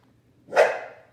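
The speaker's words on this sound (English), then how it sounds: "Sorry, it's my dog." A pet dog gives a single short bark nearby, clear and alone against near silence.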